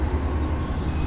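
A train in the video game Metroid Prime 3 rumbles in as it arrives, a steady, heavy low drone that fills the whole moment without a break.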